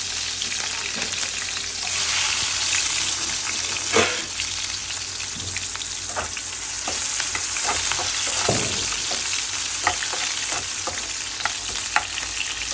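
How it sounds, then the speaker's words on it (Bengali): Chopped onions shallow frying in hot oil in a kadai for a chicken kosha give a steady, close sizzle, with occasional crackles and stirring scrapes throughout and no talking. "দিয়ে এগুলোকে বেশি না হালকা শ্যালো ফ্রাই করবো।"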